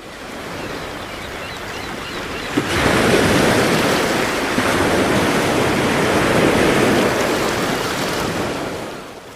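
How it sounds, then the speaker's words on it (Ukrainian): Sea waves surge and roll in a steady, loud wash of broadband noise that swells stronger after a few seconds and holds, with no voices present. "Давайте разом послухаємо, як розмовляє море."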